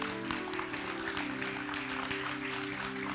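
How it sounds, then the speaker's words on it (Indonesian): An audience at a worship prayer meeting applauds, the clapping dense and continuous over a sustained musical backdrop, with no clear break. "Tepuk tangan yang paling meriah untuk Tuhan Yesus."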